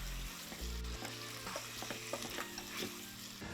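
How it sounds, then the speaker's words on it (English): Tomatoes sizzle and fry steadily in a pan for shrimp scampi, with a continuous crackling hiss and a few soft clinks and scrapes of stirring. "We're going to cook the tomatoes just for about 1 minute."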